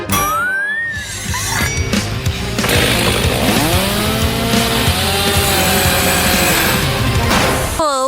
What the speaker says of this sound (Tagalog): Sige, chainsaw na lang